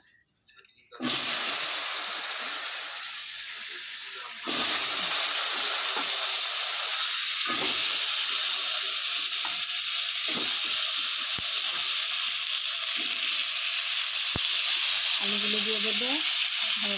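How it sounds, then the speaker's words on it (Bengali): Potatoes frying in hot oil left from frying fish for a fish curry in a home kitchen, a steady loud sizzle and hiss that starts abruptly and continues throughout, with faint clinks over it. "এবার এই তেলটার মধ্যেই দিয়ে দিচ্ছে আলুগুলো"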